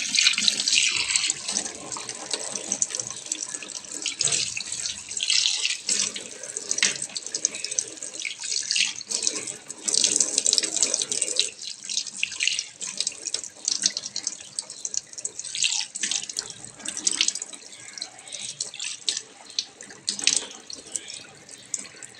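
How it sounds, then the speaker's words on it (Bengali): Tap water runs steadily into a sink while a face is rinsed clean of a gel mask, with splashing and dripping bursts close by and no talk. "তারপর জল দিয়ে 10 মিনিট রেখে মুখটাকে ধুয়ে ফেলবো।"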